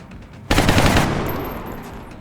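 XCOM-style tactical video game gunfire: after a half-second of quiet, one loud burst of automatic fire lasting about half a second fades into a lingering tail.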